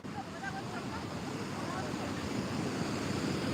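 Sea waves at Puri beach: a faint, continuous wash of surf under wind buffeting the microphone, with no distinct breaks.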